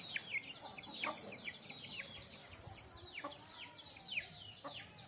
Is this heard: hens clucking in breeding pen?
yes